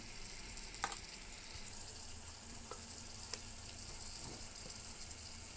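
Spiced brinjal and dal frying in a pan for tomato pappu vankaya fry, a steady soft sizzle with a few light scrapes and taps of stirring, quiet and close, no talking.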